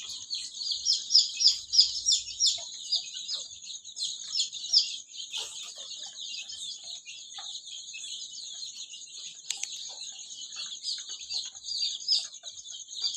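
Baby chicks in a home brooder, a small room warmed by a bulb, keep up a dense, continuous high-pitched peeping and chirping throughout, fairly close and steady, with no talking.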